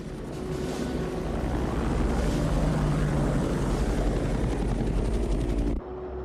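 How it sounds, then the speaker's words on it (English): A Black Hawk military helicopter thunders close overhead in an action-movie scene, its rotor beating steadily and loudly for several seconds before cutting sharply near the end. "I sent Davis and Proctor to ride shotgun for the Blackhawks, over."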